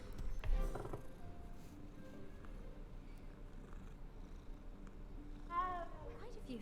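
A cat meows and purrs in the video game Hogwarts Legacy, a soft purr running under game ambience with a short, brighter meow near the end, and a person talking over the scene.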